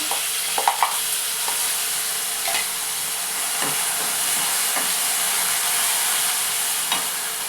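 A tomato and green chili chutney fries with curry leaves in a pan, giving a continuous loud hiss and sizzle. Scattered clinks and scrapes from stirring sit on top, with a few sharper knocks near the start.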